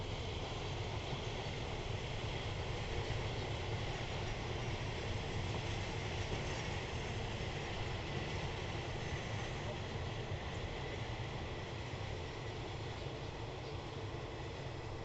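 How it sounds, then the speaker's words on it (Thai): A diesel railcar train arriving at Udon Thani station in Thailand, heard as a continuous, even engine and rail rumble throughout, fairly distant and steady. "นี่นะครับมาแล้ว เป็นรถดีเซลาง ในตำนานนะครับ"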